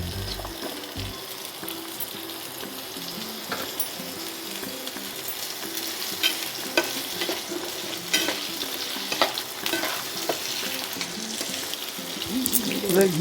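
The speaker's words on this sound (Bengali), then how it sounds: "আলুগুলো দিয়ে এবার লাল করে ভেজে নি" Potatoes fry in oil in a pan for a Bengali jackfruit-seed dhoka curry, a steady, bright sizzle with frequent scraping and clattering of a stirring utensil, close and continuous without talk.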